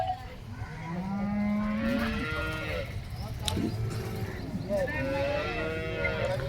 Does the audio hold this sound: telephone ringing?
no